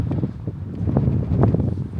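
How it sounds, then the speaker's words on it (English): Steady gusty wind buffets the microphone in low rumbling bursts, close and fairly loud, with rustling underneath and no talking. "It's very windy."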